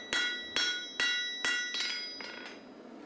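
A heavy steel horseshoe for draught horses is struck with a broad-faced hammer in about six sharp, ringing metallic blows at a steady working rhythm. Each blow is loud and close, with a bright ring that fades before the next.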